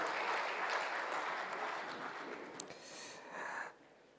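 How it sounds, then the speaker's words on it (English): Applause at a New Year diplomatic reception honouring the Dean of the Diplomatic Corps, a dense, moderately distant crowd clapping that fades toward the end. "another round of applause to the Dean of the Diplomatic Corps"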